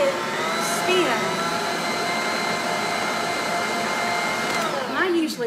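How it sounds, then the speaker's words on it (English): An electric mixer beats gooey butter cake batter in a home kitchen, giving a steady, loud, close whir that runs unbroken for several seconds. "now we're just gonna turn on the mixer"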